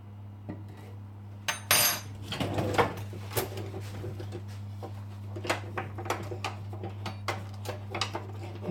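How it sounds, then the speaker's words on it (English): Dry ingredients for Barbados turnovers, coconut, sugar and cinnamon with almond extract, being stirred together in a bowl: repeated clinks and light scrapes of a utensil against the bowl, steady and close, with a low hum underneath. "Mix the dry ingredients together."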